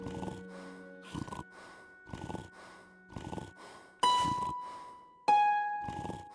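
An unconscious man snores in the video game Broken Sword 5 Serpent's Curse, with four slow rhythmic snoring breaths, each separated by a pause. Two bright chiming game tones follow near the end.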